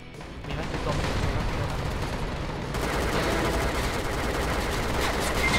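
Rapid sustained gunfire from a penguin gun in a shooting video game, a dense unbroken rattle of shots, loud and continuous throughout.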